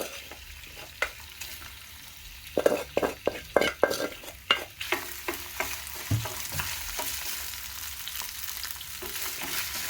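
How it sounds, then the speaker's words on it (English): Goat meat (mbuzi) fries in hot cooking oil, a continuous crackling sizzle overlaid by a busy cluster of spatula scrapes and taps against the pan, close up, with stirring easing off toward the end. "We want to dry fry this hadi it turn brown"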